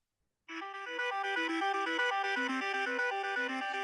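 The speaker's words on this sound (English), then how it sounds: "he put like vinyl crackle on the ringtones, and it's like the ringtone isn't supposed to sound pleasant" A Flying Lotus phone ringtone plays alone after a brief silence, a steady melodic electronic phrase of stepped, bell-like tones that repeats evenly and fairly clearly for several seconds.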